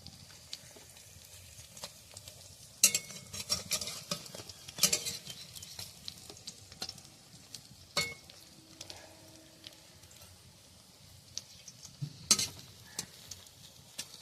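Food frying in a pan, turned over once cooked through and browned underneath; quiet sizzle and patter with intermittent scrapes and clinks of a utensil against the pan, close and soft, no talking.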